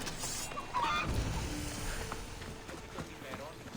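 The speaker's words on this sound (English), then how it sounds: "What is with you chickens?" Chickens in Assassin's Creed Odyssey: a few short fowl-like clucks and squawks sound over a low game ambience, with a player's voice talking alongside.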